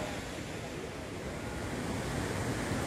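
Waterfall at Curug Awang among hillside rice fields, heard as a steady, broadband rushing roar of falling water, continuous and even, fairly faint and diffuse, with no voices.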